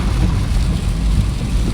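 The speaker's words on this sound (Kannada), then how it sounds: "ಪೂರಾ ಹೆವಿ ರೇನ್ ಬರತೈತಿ." Heavy rain drums steadily on a car driving through a downpour near Bagalkot, a dense continuous roar with low rumble and no pauses.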